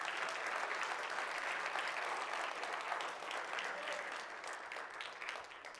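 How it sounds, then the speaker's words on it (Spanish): A church congregation applauds loudly and steadily throughout, a dense wash of clapping from a large crowd, holding nearly even in level and easing slightly toward the end. "Un aplauso bien fuerte."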